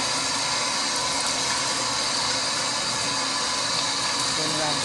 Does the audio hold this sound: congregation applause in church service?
no